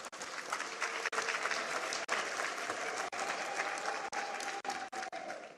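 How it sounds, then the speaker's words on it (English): Warm round of audience applause in a room after a presidential announcement on the formation of a new cabinet: dense, sustained clapping that fills the space, broken by a few abrupt brief gaps. "Please let us give us another round of applause"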